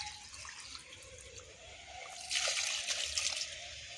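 Water poured onto plants in a home garden, a soft background hiss that turns into a louder splashing stream midway and runs for about a second and a half.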